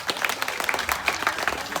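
Audience applause in a studio, a steady wash of many hands clapping at close range with no voices over it.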